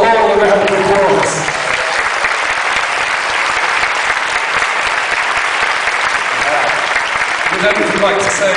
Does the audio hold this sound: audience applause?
yes